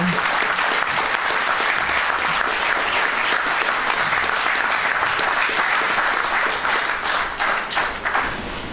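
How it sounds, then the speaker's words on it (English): Sustained, loud crowd applause fills a political party's local government election campaign launch, continuous dense clapping for nearly nine seconds that tapers slightly at the end. "Let's give him a round of applause and bring him on."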